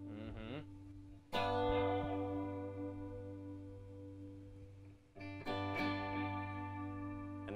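Analog delay effect in the style of a Memory Man pedal, adding a warbling, modulated repeat to sustained guitar chords that ring out, decay, then get struck again, loud and without voices.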